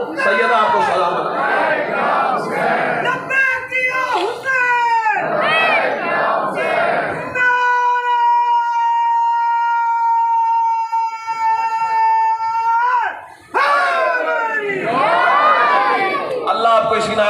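Crowd at a Muharram majlis in Pakistan chants a religious slogan in loud, unison bursts, with rhythmic collective shouting before and after a sustained held tone in the middle.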